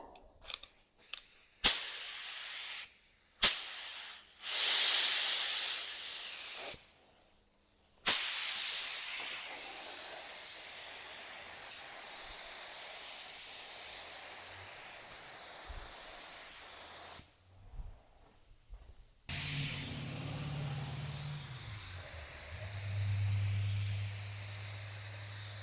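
A farm tractor being spray painted with a spray can: several short close hissing bursts, then a long continuous spray, and after a pause a final steady hiss over a low hum.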